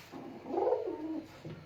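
A pigeon kept for sale on a rooftop gives a single soft, low rolling coo that swells and fades, followed by a brief fainter murmur, close and alone.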